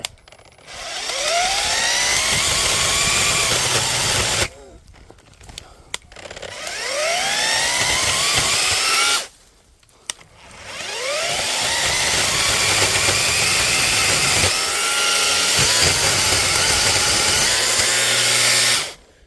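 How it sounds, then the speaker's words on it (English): A Parkside PGKGA40-LIB2 40V cordless long-reach chainsaw with a soft-start motor whines loudly in three long runs in woodland, rising and falling in pitch as it cuts, with short quiet gaps between bursts. "And now you have a long reach chainsaw."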